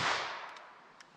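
A .22 Long Rifle Mini Mag round fired through heavy winter clothing: one sharp, close crack that decays quickly into a fading tail, followed by faint small clicks.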